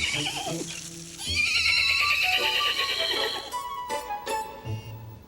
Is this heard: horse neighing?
yes